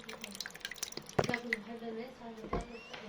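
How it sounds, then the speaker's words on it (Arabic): Vinegar is poured into a pot of Egyptian koshari, giving soft splashes and drips against the food, with a voice talking over the pouring. "وهننزل على خل، نص كوباية خل"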